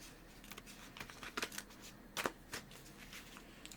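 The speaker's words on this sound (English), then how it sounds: "Shuffle." Rider Tarot cards being shuffled by hand, a faint, close series of quick riffling and slapping bursts in an otherwise quiet room.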